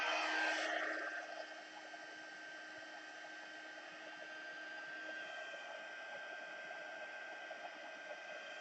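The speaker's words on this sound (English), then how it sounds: "now I'm just going to use my heat tool to set it a little bit" A heat tool blows steadily while drying damp tissue paper laid on an acetate window sheet, a loud broadband rush at the start that settles into a quieter, continuous airy hiss for the rest.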